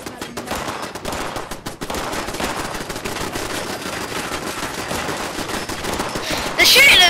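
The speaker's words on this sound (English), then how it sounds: "They're all shooting at me!" Sustained automatic gunfire from a Fallout 76 firefight, loud and continuous bursts of rapid shots with a sharper, louder blast near the end, with no talk over it.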